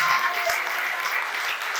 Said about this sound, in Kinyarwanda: twakomera Imana amashyi menshi